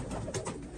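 Iraqi domestic pigeons kept in a loft in Europe coo softly and steadily, with a couple of brief, brighter bursts near the middle over a constant hiss, no voices.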